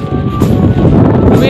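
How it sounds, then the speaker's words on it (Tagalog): Strong wind gusts roar loudly and continuously across the microphone outdoors, a dense buffeting rush with no pauses. "Super lakas ng hangin."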